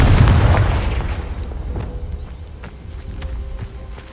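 A Confringo spell blast in Hogwarts Legacy, a single loud booming explosion up close that decays over a couple of seconds into scattered footsteps and small impacts.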